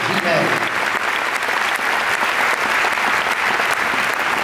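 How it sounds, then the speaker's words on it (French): Festival opening night audience in a hall applauding loudly, a thick, even roar of clapping from a large crowd that holds at full strength throughout. "vous allez les applaudir très fort"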